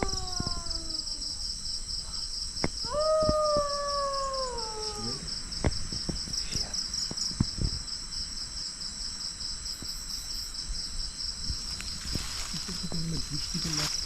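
Insects chirp in a dense, steady, high-pitched drone throughout in a forest at night; a drawn-out, cat-like wail rises and falls early on, and brief rustles and clicks come through over the chorus.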